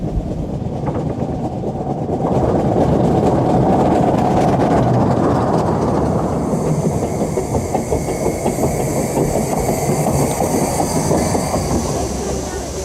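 A miniature railway train running past with steam and diesel locomotives, a loud steady rumble and rhythmic clatter of wheels on track that swells as it approaches, with talking in the background.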